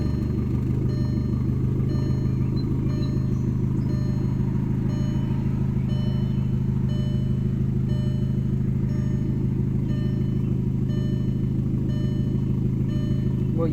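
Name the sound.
VW Jetta engine running after dogbone replacement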